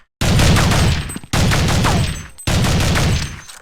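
Three loud, close bursts of rapid M4A1 rifle fire in Counter-Strike 1.6, each about a second long, separated by brief gaps, with no talking.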